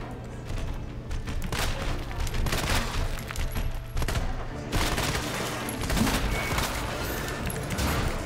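Bursts of rapid gunfire from the Resident Evil 2 Remake video game crackle in repeated volleys, dense and fairly loud, with short gaps between clusters of shots.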